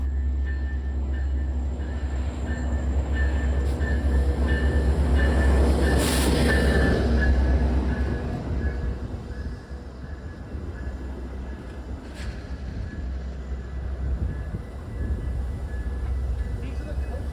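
A Metra commuter train led by an SD70 Max locomotive runs past at Grayslake Station, giving a loud continuous low rumble with a sustained high whine, swelling and easing over the passage, while people talk faintly nearby.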